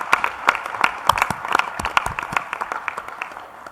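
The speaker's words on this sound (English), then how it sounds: "I was waiting for the applause." A conference plenary audience claps in a loose, uneven scatter of individual claps, sharp and fairly close at first, then thinning into lighter, fading clapping toward the end.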